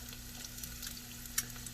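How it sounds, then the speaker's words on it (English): Garlic and baby potatoes sizzle in a hot pot of oil, a steady, soft frying crackle with a few brief pops, fairly faint and heard alone. "Sizzling. The garlic is sizzling."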